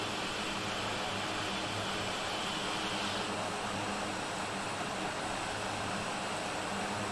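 Mitsubishi MU-2 turboprop in Microsoft Flight Simulator climbing out of Aspen, Colorado, a steady, loud engine drone with a whining high tone, unbroken throughout.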